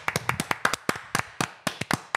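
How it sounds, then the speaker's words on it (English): A few people clap their hands in close, sharp claps, irregular and uneven, some single and some in quick pairs, with short gaps between them. "And another clap for Christmas"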